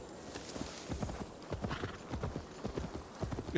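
Horse hooves clip-clop steadily in Assassin's Creed Valhalla, a close, rhythmic run of hoofbeats over a low ambient background.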